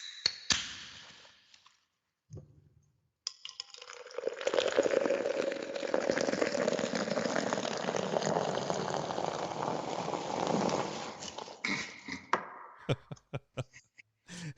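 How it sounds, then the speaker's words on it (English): A seltzer water can pop-top cracks open, caught on a boosted mic, with a sharp click followed by several seconds of loud, close, steady fizzing hiss that tapers off into a few faint taps. "rate this pop top. Seltzer water. With a boosted mic."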